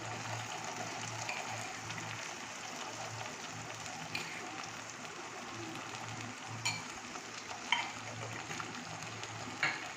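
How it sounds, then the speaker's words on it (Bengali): Turmeric and Kashmiri chili powder fry slowly in oil and ghee in a pan over a low flame for a chicken curry, giving a soft, steady sizzle with a few faint stirring clicks. "এবার এটাকে মশলাটাকে ভালো করে তেল আর ঘিয়ের সাথে কষিয়ে ভাজা ভাজা করে"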